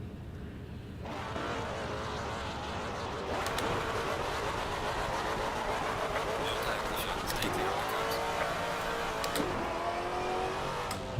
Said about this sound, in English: The obligatory Maserati burnout there.